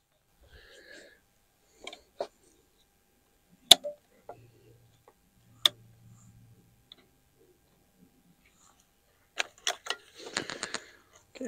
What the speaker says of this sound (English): Couple light taps just to take this connector off.